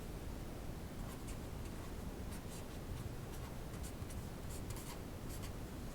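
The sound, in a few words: writing on a board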